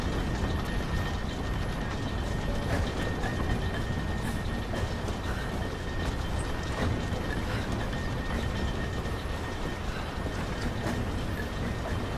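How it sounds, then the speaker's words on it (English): A lever-operated lift mechanism grinds along steadily in Rise of the Tomb Raider, giving a continuous, dense rumbling clatter at even loudness that runs without a break from start to finish. "Try pulling that lever over on the platform. Maybe it'll get us moving."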